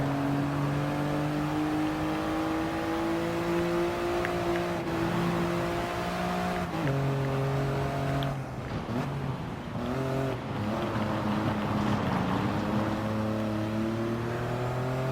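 Engine of a Toyota GR Yaris RZ First Edition in Gran Turismo Sport, revving and climbing through gears in a rally-style drive, with sharp shifts and steady droning tones running throughout, no talk over it.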